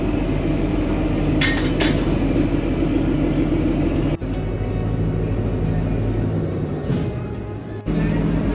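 A Kalka Shimla mountain railway train pulls away with a steady low engine hum and a few faint metallic clanks and knocks, fairly constant in level with no voices.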